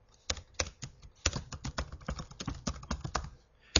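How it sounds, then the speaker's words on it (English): A username is typed on a keyboard while connecting a tablet to an office Xerox printer: a steady run of close, crisp key clicks with short pauses between bursts and no voices. "So I'm going to type in my username,"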